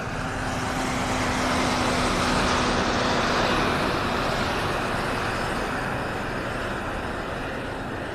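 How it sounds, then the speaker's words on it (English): An older dump truck passes along a road near a beach, its engine a loud, steady broadband roar that swells toward the middle and holds, with a faint low hum underneath. "It's one of those older dump trucks. They're noisier."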